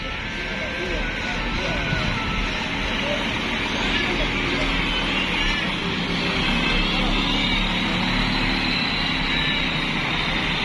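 Steady engine rumble and road noise from buses pulling into a busy bus terminal during Mudik holiday travel traffic, a continuous loud wash of motors with crowd babble and voices mixed in throughout.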